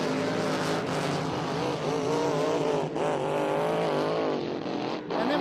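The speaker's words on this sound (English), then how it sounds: "As they go past the start-finish line, second place, and on the charge, Peter Dudson." A racing powerboat in the GP 577 class roars past the start-finish line on Lake Karapiro during a national championship, its engine a loud, sustained high-revving drone with shifting harmonics and no talking over it.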